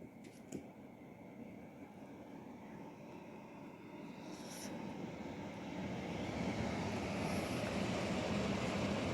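A Rowenta Pure Home air purifier running at its maximum speed setting, giving a soft, even whoosh of fan airflow that swells gradually louder, quiet and alone.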